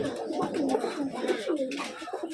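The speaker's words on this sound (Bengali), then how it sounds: "এখন প্রায় সবগুলো কবুতর ছেড়ে দেবো, ছেড়ে দেওয়ার পরে একবারে সবগুলো কবুতর দেখাবো।" Rajshahi Giribaz pigeons coo steadily and close by as they are released, with low rolling calls overlapping throughout. No talking.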